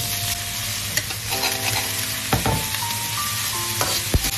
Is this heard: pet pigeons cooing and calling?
no